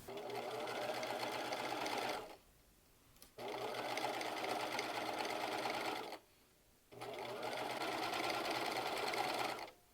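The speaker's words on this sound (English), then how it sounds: "To stitch my pocket, I am using a 1/2 inch seam allowance-ish" A sewing machine stitches a pocket seam on soft pants in three steady whirring runs, each a couple of seconds long, separated by short quiet pauses, close and clear with no talking.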